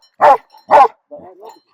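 Hunting dogs barking during a wild boar hunt: two loud close barks in quick succession, followed by a softer whining yelp.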